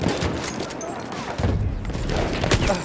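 Battlefield 1 battle gunfire: dense, continuous volleys of shots and booming impacts crackle throughout, with a heavier burst midway and another near the end, over a busy war-zone din.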